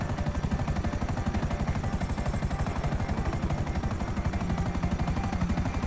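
A helicopter in the GTA 5 Online video game on next-gen Xbox Series S flies with a steady, rapid rotor chop and a turbine whine, loud and continuous throughout.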